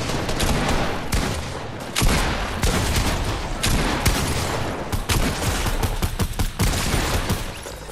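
Rapid, dense bursts of weapon fire from the video game Fortnite ring out loudly and almost without pause, sometimes as single shots and sometimes as volleys.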